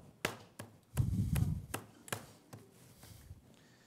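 Oiled hand-pulled noodle dough for braised beef soup slapped and beaten against a surface: about eight crisp, separate smacks at an irregular pace, with one heavier, thuddier blow early on and no talking.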